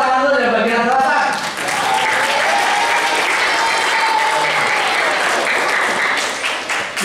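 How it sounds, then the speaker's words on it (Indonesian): An audience in the southern section of a hall claps together for several seconds in a loud, steady burst of applause that fades slightly near the end. A voice can be heard over the start. "tepuk tangan dulu ya bagian selatan."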